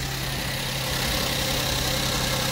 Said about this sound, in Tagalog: ito po makina niya